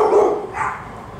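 A dog at an animal rescue gives a couple of short, close barks and yips that fade quickly into quieter background noise.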